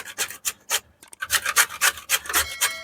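Banana flower (mocha) is finely chopped with a knife in a home kitchen, producing quick, close, crisp cutting strokes in an uneven burst with a brief pause near the middle, and no talking.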